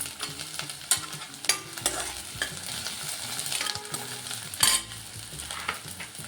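Onion and green chillies fry in a pan with a steady close sizzle, stirred now and then with scraping clinks, while rajma curry is being cooked.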